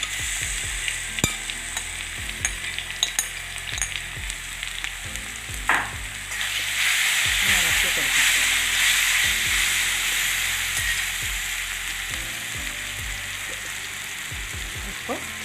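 Nendran banana pieces fry in a pan with curry leaves and chillies for sweet Onam Madhura Pachadi, a steady sizzle broken by stirring scrapes and clicks, swelling louder midway as the fruit hits the hot oil.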